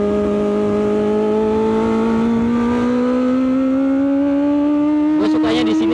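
A Kawasaki ZX25R motorcycle fitted with a new aftermarket exhaust holds a loud, close, high-pitched rev that climbs slowly and steadily, with a brief burst of extra noise near the end.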